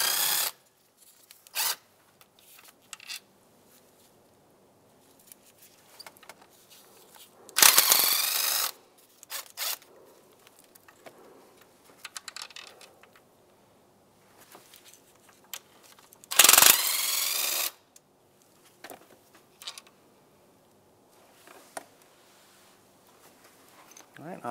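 Ratchet or power tool removing 5/16 bolts from the intake of a Mazda CX-9 engine: several short, loud bursts of tool noise separated by quiet stretches, with someone talking between them.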